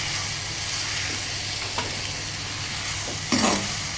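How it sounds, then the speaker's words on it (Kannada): Seasoning with turmeric fries in a pan for moong dal, making a steady close sizzle with a few soft scrapes from a stirring spoon and a louder stir near the end. "ಇದನ್ನು ಸಹಿತ 2 ರಿಂದ 3 ನಿಮಿಷ ಚೆನ್ನಾಗಿ ಫ್ರೈ ಮಾಡ್ಕೋಬೇಕು"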